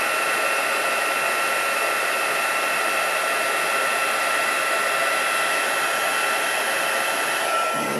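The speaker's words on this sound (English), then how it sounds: "And while we've still got the heat gun going," A heat gun in use for papercraft on a concertina card blows a steady, loud broadband whoosh throughout, winding down slightly at the very end with no talk.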